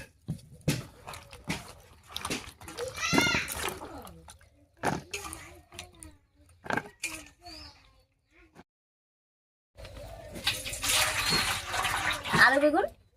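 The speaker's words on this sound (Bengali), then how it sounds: "আলু বেগুনটা কেটে নিয়েছি, একবারে ধুয়ে নিচ্ছি।" Cut potatoes and eggplant being rinsed in water for a fish curry, with splashing and dripping in bursts and a louder stretch of swishing near the end, while someone talks over it.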